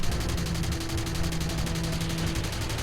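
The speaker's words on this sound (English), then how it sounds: "runs those cannons straight along the belly of the F-25 Sabre, shredding its control surfaces, blowing its engine" Fighter jet cannons fire in a realistic-battle flight game as a plane strafes the belly of an enemy Sabre, a rapid, continuous stream of gun bursts over a dense engine roar, loud and unbroken for the whole stretch.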